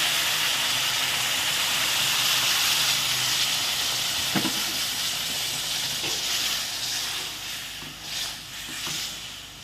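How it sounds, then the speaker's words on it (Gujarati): Hot water poured into a hot pan while making sheera sends up a loud, steady steaming hiss that fills the whole stretch, with a few faint clicks and bumps near the end. "તો બસ આ રીતે આપણે નાખી દેવાનું છે ગરમ પાણી."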